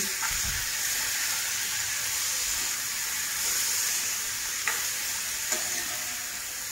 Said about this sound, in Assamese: এতিয়া অকণমান লৰাই দিম।